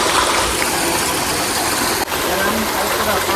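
Water splashes into a farm water tank in a Botad village, a loud, close, continuous rushing gush that barely varies apart from one brief dip.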